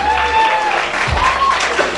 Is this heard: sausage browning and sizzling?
no